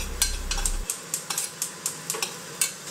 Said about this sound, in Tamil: வெங்காயத்தையும் நல்லா வதக்கிக்கணும்.